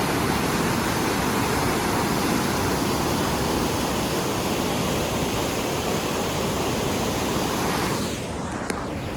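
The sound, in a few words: water rushing down from a dam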